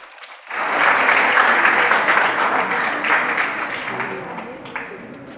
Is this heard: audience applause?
yes